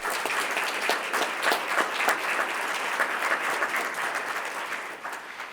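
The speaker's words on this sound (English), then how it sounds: "They all deserve a hand of applause." An audience at the Canton Township police awards ceremony applauds its police officers, chief and deputy chief with dense, steady clapping that holds for several seconds before tapering slightly at the end.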